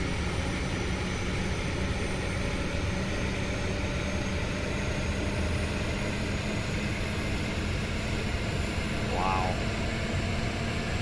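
Airbus jet engines spool up in Microsoft Flight Simulator 2020, a steady broad roar with a high whine that holds throughout, with a brief exclamation from a person heard over it.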